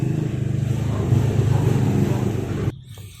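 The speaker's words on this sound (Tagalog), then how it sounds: "medyo nagpo-post tayo ng video pagka may dumarating na tricycle, maingay yung ating background" A motorized tricycle engine drones loudly past outside, its low, throbbing putter holding steady before cutting off abruptly near the end.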